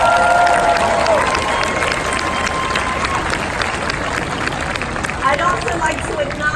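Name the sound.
applause for the ship's crew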